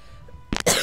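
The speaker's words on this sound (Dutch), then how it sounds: "Even hoesten." One person gives a sudden, close cough burst followed right away by a second harsher hack, after a brief quiet lead-in.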